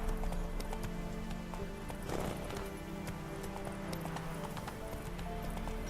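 Hooves of the horse Roach in The Witcher 3, a steady rhythmic clip-clop of galloping on ground, close and clear, with a brief whinny and faint game ambience.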